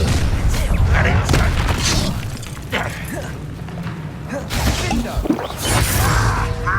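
Incendio fire spell cast during Hogwarts Legacy combat: loud whooshing bursts and booming impacts over a constant low rumble of battle noise, with several blasts spread across the stretch.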